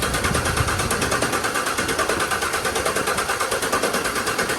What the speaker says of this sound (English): we're gonna go ahead, run the starter over